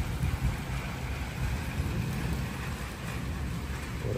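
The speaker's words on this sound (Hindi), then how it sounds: "सुबह सुबह बारिश शुरू हो गई" Morning rain falls steadily in a Punjab village at Kallar Syedan, Pakistan, a continuous dense hiss with low rumbling underneath, unchanging throughout.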